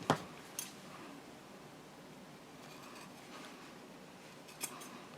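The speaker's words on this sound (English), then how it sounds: "I just want to clip off this corner." Scissors snip once at the corner of a sewn fabric pouch seam, a crisp close click at the start, with a second faint snip soon after and another near the end over quiet room noise.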